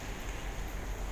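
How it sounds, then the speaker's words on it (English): Steady rain pours down during a spell of bad weather, making a continuous even hiss that fills the whole background without pause and with no voices. "it has been raining non-stop"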